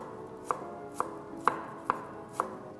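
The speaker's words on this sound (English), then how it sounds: "Ginger, thin slice." Knife thinly slicing ginger on a cutting board, five crisp, evenly spaced chops about half a second apart, close and clear with no talk.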